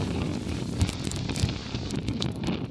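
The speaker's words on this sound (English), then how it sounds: "It's just ridiculously windy." Strong coastal wind at an ultramarathon buffets the microphone with rumbling gusts and occasional crackling thumps, continuous and close, with no one speaking.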